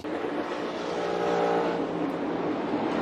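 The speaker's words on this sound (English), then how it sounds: "let's watch Brad Keselowski drive right through it" A NASCAR stock car races at Texas Motor Speedway during the 2024 Autotrader EchoPark Automotive 400, its engine a loud, sustained roar that swells slightly as it passes close by, with crowd and track noise beneath.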